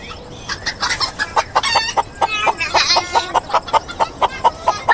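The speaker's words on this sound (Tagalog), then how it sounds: "enjoy na enjoy naman po yung mga manok natin sa pagkain" Chickens cluck in quick, rhythmic bursts close by while eating, with overlapping squawky calls from several birds.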